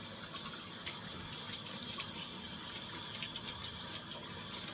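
Humidifier parts are rinsed under a running tap: a steady, close hiss of flowing water with faint splashes and clatter throughout.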